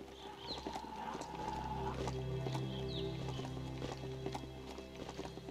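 Hooves of a horse-like mount clip-clop steadily as it runs through the video game Biomutant, with a couple of short whinny-like calls over a continuous game background.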